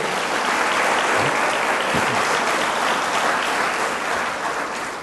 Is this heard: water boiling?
no